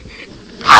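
A puppy lets out a single short, sharp bark near the end, after a quiet stretch with faint background noise.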